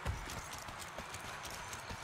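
Horse hooves clip-clop in the Western shooter Evil West, a quick, steady run of close hoofbeats over faint background noise.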